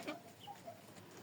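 A young rooster raised from a chick hatched at the end of March gives a short, quiet clucking call, close by and alone.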